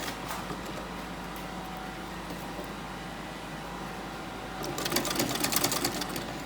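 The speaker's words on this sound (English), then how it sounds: "You sew and stop, sew and stop." A sewing machine stitches an invisible zip into fabric with a steady, close mechanical whir. It runs in short stop-start bursts and grows louder and faster near the end, with no talking.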